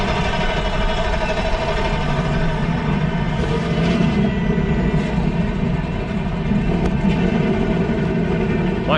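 NASCAR race car engines starting and idling at the 2013 NRA 500 in Texas, a dense, loud, continuous low roar of many engines together across the field, with no talking.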